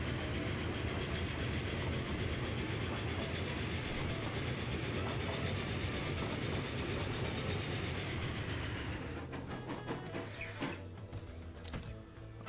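Rail traffic in the Transport Fever 2 video game: a loud, steady rumble of a running train with clickety-clack of wheels fills the scene, easing off and thinning out in the last few seconds.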